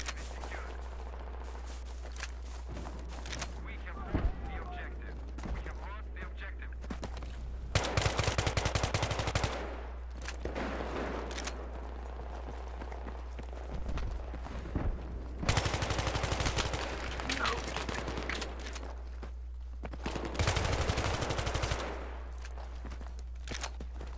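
Gunfire from the Battlefield 3 video game on the Sharqi Peninsula map: loud bursts of automatic fire come in several repeated volleys over steady background noise, with brief pauses between them and occasional players talking.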